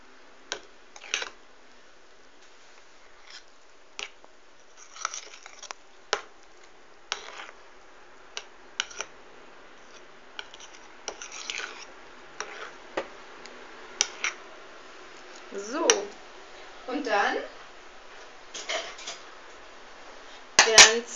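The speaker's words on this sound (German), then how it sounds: "Dann mische ich das Ganze." A spoon stirs muesli ingredients and maca powder in a bowl, giving sparse light clinks and scrapes against the dish, close and fairly quiet with pauses between strokes.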